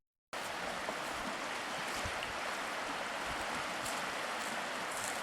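Creek water flows in a steady, dense rush at Gretchen's Lock, a continuous close wash of broadband noise that starts abruptly and holds evenly throughout with no voices.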